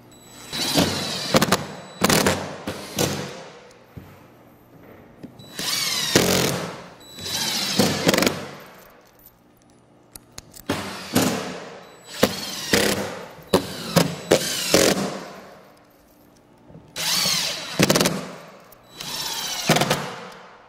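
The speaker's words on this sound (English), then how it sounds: "now that we have all the screws tightened down for the outside rail" A power drill drives screws into model railway rail ties, whirring loud and close in repeated bursts of one to two seconds with short pauses between.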